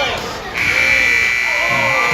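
A loud sustained buzzer sounds at the end of a period during a youth squirt hockey game between Prior Lake and River Falls. It cuts in about half a second in and holds steady over rink crowd noise and commentary.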